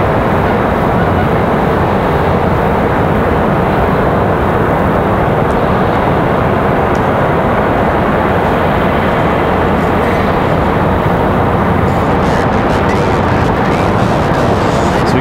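Air France airliner departing Raleigh Durham International airport, a loud continuous broadband jet roar that stays steady and near throughout, no talking.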